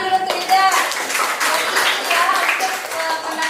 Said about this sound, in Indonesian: minta tepuk tangan dulu untuk Ida.